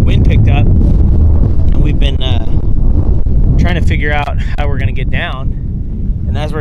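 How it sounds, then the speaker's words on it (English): Strong wind buffets a fishing boat off Alaska, a loud steady roar of gusts beating on the microphone, with someone talking over it throughout. "Wind picked up"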